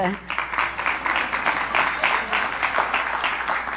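Sustained applause from a crowd at a congressional event honoring named members of Congress, dense rapid clapping throughout that starts at moderate volume.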